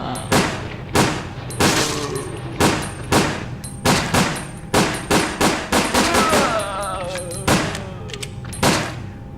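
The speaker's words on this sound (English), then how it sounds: "luckily, Bruce can shoot very fast with his handgun" Rapid handgun shots ring out from the video game Resident Evil: Dead Aim, loud and close, firing in quick bursts with short gaps, each crack ending in a metallic ring.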